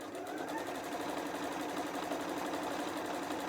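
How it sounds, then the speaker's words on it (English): Sewing machine stitching around the raw edges of fabric hexies, a steady, close, fast mechanical whir and rattle running without a break, with no voices. "we're simply going to allow the machine to sew around all raw edges of our hexie now"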